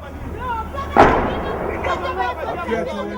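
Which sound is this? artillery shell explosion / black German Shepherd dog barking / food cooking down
artillery shell explosion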